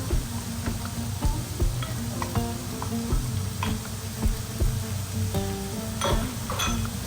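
Shredded cabbage and carrots stir-fried in a pan for a samosa filling, with a steady close sizzle under frequent clinks and scrapes of a spoon.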